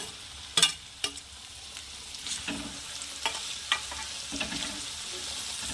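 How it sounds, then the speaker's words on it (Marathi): Chole masala paste frying in oil as a spoon stirs it, a low, steady sizzle punctuated by several sharp knocks and scrapes against the pan, two loud ones early and softer ones later. "यामध्ये तेलामध्ये दोन ते तीन मिनिट मी फिरत आहे फिरवत आहे"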